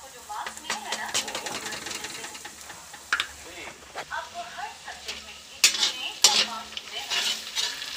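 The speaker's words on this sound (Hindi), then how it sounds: "अब इसे गोल्डन ब्राउन होने तक भून देंगे" Onion, garlic, ginger and green chilies fry in hot oil, a soft continuous sizzle with scraping stir strokes and occasional louder crackles, close by and faint.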